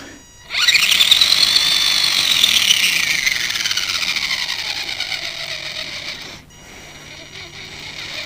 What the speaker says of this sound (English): I'm going to turn the trim up, put a steady draw on it, and that is just to break the motor in a little bit.